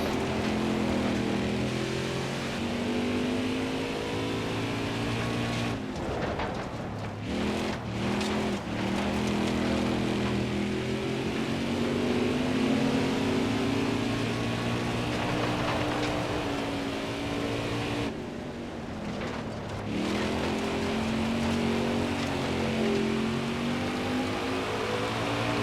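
Race cars in the NASCAR Heat 5 video game running a dirt semifinal at Jefferson Raceway, a continuous loud engine roar with rising and falling pitch as cars pass, dipping briefly twice, with no talking.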